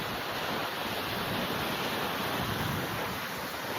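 Ocean waves wash over rocks at Bondi in Sydney, a continuous, broad rushing surf with steady loudness and some wind noise throughout.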